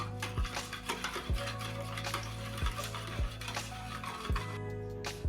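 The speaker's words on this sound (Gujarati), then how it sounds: "તો હવે આપણે મિશ્રણને હલાવી લઈશું।" An oil and water mixture for Bhavnagari gathiya dough is stirred by hand in close, regular strokes, about six scraping clinks roughly a second apart.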